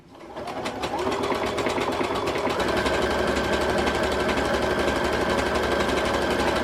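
A domestic sewing machine stitches two layers of stretch fabric, its needle hammering in a fast, steady, continuous run from start to finish, close and loud with no talking.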